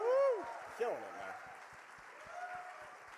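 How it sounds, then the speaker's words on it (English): Audience applause at a Muppets Mayhem convention panel at New York Comic Con 2022, opening with a loud whooping cheer and then settling into a steady, moderate wash of crowd clapping. "can we give Bill a round of applause for this outfit?"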